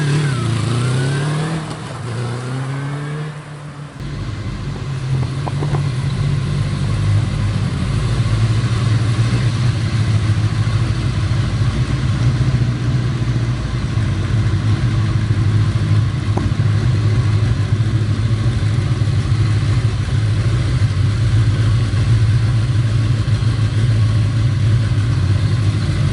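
A 1980 Kawasaki KZ550 LTD motorcycle engine revs a few times, then settles into a steady, loud, close idle that runs on without a break.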